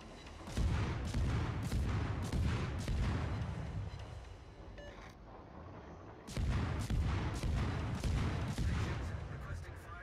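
A destroyer in World of Warships firing HE shells, loud booming salvos in rapid repeated bursts, a short lull near the middle, then another string of heavy shots.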